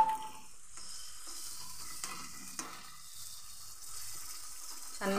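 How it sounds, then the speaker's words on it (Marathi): Tomato paste goes into cashew paste masala in a hot pan with ghee for shahi paneer, giving a soft, steady sizzle with light scraping and stirring clicks, fairly quiet throughout. "आता टमाटरची पेस्ट टाकून घेऊ"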